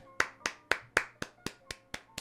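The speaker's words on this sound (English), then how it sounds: "Clap it up" Nine sharp, separate hand claps land in a steady, evenly spaced rhythm, close and fairly quiet, each with a short decay and no other sound between them.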